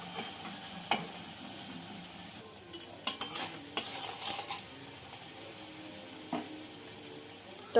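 Tomato paste being stirred into spiced jackfruit curry frying in a pan gives a quiet simmering sizzle, broken by a cluster of louder scraping and clinking stirs midway and a few isolated knocks.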